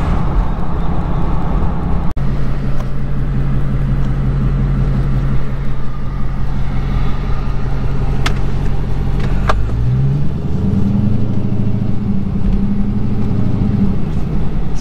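Custom 1969 Plymouth Road Runner engine idling with a throaty, loud, steady rumble close by, then revving up with rising and falling pulls in the last few seconds.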